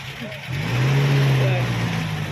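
A car engine rising as the vehicle pulls away at a workshop, a close rumble swelling and holding, heard under a man's speech.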